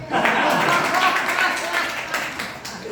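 Audience clapping for a poem recited at a training session for new BPSC teachers, a crowded patter of many hands, sustained and fairly loud, with a voice carrying over it.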